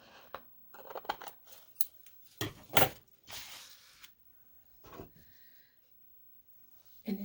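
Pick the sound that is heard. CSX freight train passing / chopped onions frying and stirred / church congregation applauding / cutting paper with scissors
cutting paper with scissors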